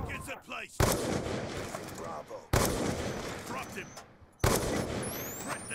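Gunfire in a first-person shooter video game, three sharp loud blasts each trailing into rumbling echo, with excited voices talking over the action.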